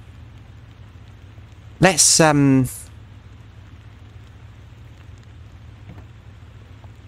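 Rain falls steadily in the video game Motor Town as a soft, even hiss running throughout, briefly interrupted by a short spoken word partway through.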